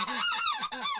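Geese honk during a goose hunt in Southwest Louisiana. Three loud, nasal honks come in quick succession, close by and with no other sound around them.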